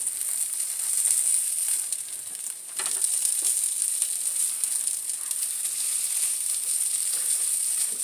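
Salmon patties fry in olive oil with a steady, bright sizzle that runs unbroken, joined by a few soft scrapes of a spatula in the pan.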